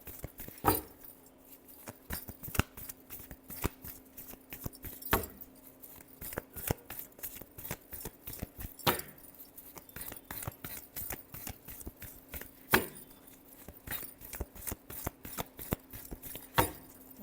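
Tarot cards being shuffled, giving dense, rapid flicking and snapping bursts in an uneven rhythm with occasional louder slaps, close up and steady, with no talk.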